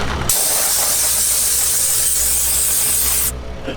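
A strong, continuous hiss of spray on the tires of a Revel Mission Baja runs for about three seconds and then cuts off, close up with no voices.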